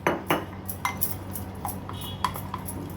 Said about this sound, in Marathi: ह्याला व्यवस्थित मी मिक्स करून घेते